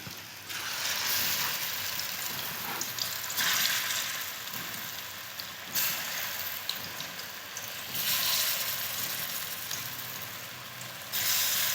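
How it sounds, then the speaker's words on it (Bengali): Bottle gourd koftas frying in hot oil, a continuous crackling sizzle with steady bubbling and occasional swells, heard close and alone throughout. "এবারে আমি কোপ্তাগুলো ভেজে নেব তেলে।"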